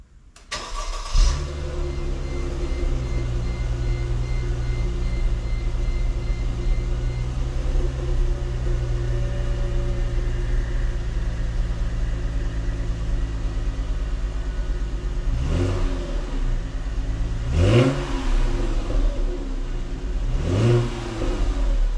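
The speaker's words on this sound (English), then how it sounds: "This damn engine run like a sewing machine." A 2007 Mercedes C350 4matic engine with quieted lifters and no smoke runs close by at a smooth, steady idle, then is revved in three short blips near the end.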